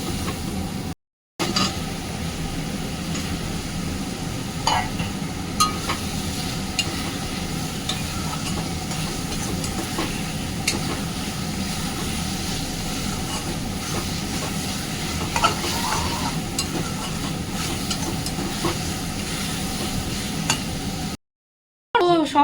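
Capsicum chicken masala with yogurt is stir-fried in a pan, giving a continuous scraping, churning sizzle that holds steady throughout with brief dropouts near the start and end.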